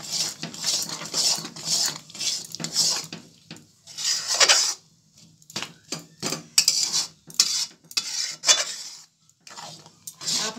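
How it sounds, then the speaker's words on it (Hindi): A spoon stirring jaggery into thick roselle (kudrum) jam in a metal pot, giving repeated scraping and rasping strokes in an uneven rhythm, close and fairly loud, with brief pauses between strokes. "अभी मिक्स हो रहा है दोस्तों गुड़ इसमें"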